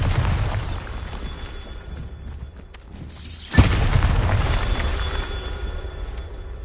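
A Bombarda explosion spell goes off in a Hogwarts wizarding game. One sharp, loud boom bursts out after a quieter rumbling passage, then a heavy roar follows it and slowly fades.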